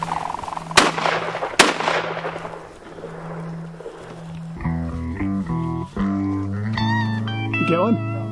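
Two sharp, loud shotgun blasts fired at quail while hunting, about a second apart, each with a decaying outdoor tail, followed by people talking nearby.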